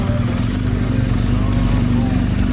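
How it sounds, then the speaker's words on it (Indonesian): A motorcycle ridden on a short test ride near Port Klang after weeks unused, its engine a loud, steady low drone throughout with constant wind-like rush and no clear revving. "Lanjut test ride tipis-tipis dulu nih, buat adaptasi lagi sama motor yang sudah beberapa minggu tidak saya"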